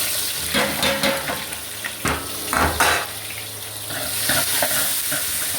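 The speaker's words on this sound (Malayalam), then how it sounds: "ഉള്ളി ഒന്ന് റോസ്റ്റ് ആക്കാം" Onions roasting in hot oil with spices for a Malabari chicken kurma, a close sizzle broken by several louder stirring scrapes and clinks of a spoon against the pan.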